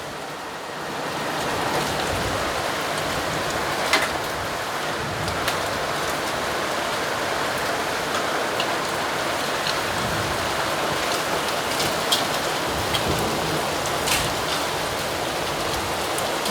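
Heavy rain with hail pounding down during a daily storm, a steady dense roar of drops and pellets on surfaces with occasional sharper impacts, continuous and close throughout, no voices.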